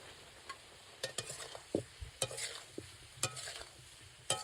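Salted potatoes sauté in a pan, with a quiet sizzle under a run of irregular scraping and tapping strokes from a stirring spoon.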